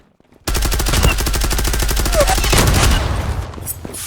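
Loud, rapid automatic gunfire sprays nonstop for several seconds in the Zula shooter video game on the Favela map, starting abruptly after a short silence and trailing off near the end.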